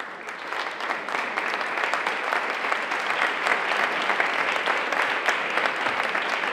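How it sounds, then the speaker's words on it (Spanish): A concert audience applauds after a performance by the Orquesta CyL and the Coral Ágora, a dense and steady burst of clapping that stays loud throughout with no voices over it. "Pues hemos escuchado los aplausos"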